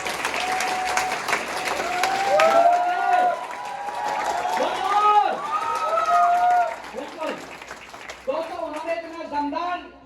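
An audience at a business success-plan event claps and cheers for the committee MD and CMD, a loud sustained wash of many hands with shouts and whoops rising above it, while an amplified voice talks over the crowd.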